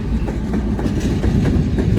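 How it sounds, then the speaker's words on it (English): A long freight train rolls past some distance away, giving a steady low rumble with soft wheel clatter that holds evenly throughout, with no voices. "Another train way down there."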